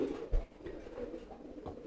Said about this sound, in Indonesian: ini untuk merpati pos saya nih